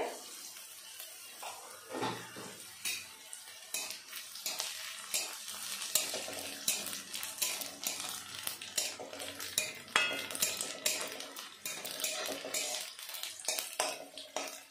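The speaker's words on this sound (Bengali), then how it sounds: "দেখুন রসুনটা আমি লাল লাল করে ভেজে নিয়েছি।" Garlic frying in a pan for a flat bean (sim) mash, with steady close crackling and scraping stirring that comes in short bursts throughout.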